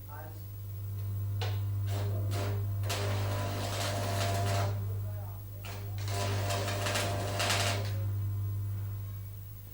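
Tack welds being laid on a clamped metal frame held to a block: two separate bursts of harsh crackling arc noise, each lasting a couple of seconds, over a steady electrical hum.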